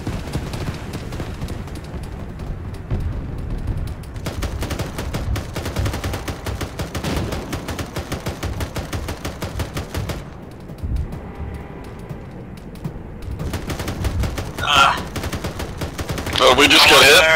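A gunner's weapon fires in rapid bursts during a combat engagement, the loud cracks repeating in dense stretches with brief pauses between, while voices talk over the firing and a louder blast comes near the end.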